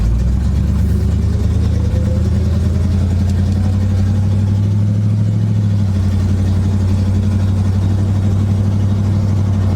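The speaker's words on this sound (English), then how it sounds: "Is she idle at stop? Yep." A 1976 GMC Sprint's big old engine idles steadily up close, a loud, low, uneven rumble with no talking.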